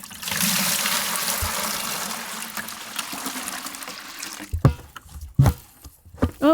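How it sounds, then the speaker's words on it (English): Birch sap trickles and drips onto the ground outdoors, a soft continuous dribble that later gives way to a few sparse, louder knocks and drops. "And it's just dripping on the ground."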